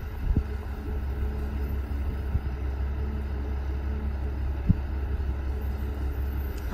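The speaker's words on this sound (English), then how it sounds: "I apologize for the wind and all that." Steady low rumbling wind buffeting the microphone beside a gravel-hauling truck, with a machine hum underneath and a few faint knocks.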